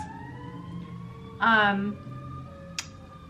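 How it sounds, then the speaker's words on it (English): Fire truck and ambulance sirens passing in the distance, a faint steady wail running beneath someone talking indoors. "oh, fire truck, ambulance"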